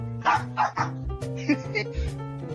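Dog barking in several short yips and woofs at the start, close and fairly loud, then the clip continues with other sound and music-like tones.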